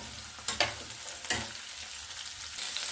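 Green chilies frying gently in a pan over a low flame, a soft continuous sizzle broken by a few quick spatula scrapes near the start.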